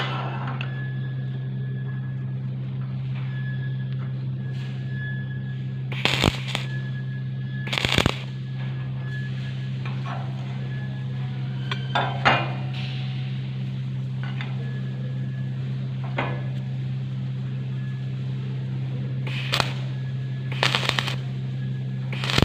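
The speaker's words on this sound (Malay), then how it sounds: "kemudian akan dipaku kimpal di bahagian hujung dan juga hujung sini" Shielded metal arc tack welds on a carbon steel plate T-joint come as several short crackling, sputtering bursts spaced unevenly over a steady low electrical hum, with no voices.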